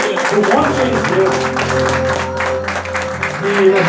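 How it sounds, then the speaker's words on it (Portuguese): Church congregation applauding its members at a Brazilian church anniversary service, a steady wash of clapping running under continuous organ or keyboard tones, with voices faintly audible through it. "Eu queria uma salva de palmas para os nossos irmãos aqui da congregação, do monte de Deus."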